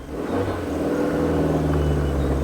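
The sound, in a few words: Suzuki Jimny engine revving, crawling off-road in first gear 4 low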